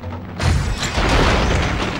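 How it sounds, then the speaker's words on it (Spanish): A loud explosion in the PlayStation 2 game Baldur's Gate: Dark Alliance hits after a brief quiet moment with a deep boom, then a dense rumbling roar that carries on to the end. "Me ha enganchado la explosión"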